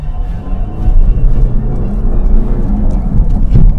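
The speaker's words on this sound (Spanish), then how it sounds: "Último intento, tercer intento, vamos allá con un poquito de alegría en el acelerador" A Mercedes G-Class labours up a muddy off-road obstacle on its third attempt, engine droning and rumbling steadily and loudly close by, with a slight swell near the end.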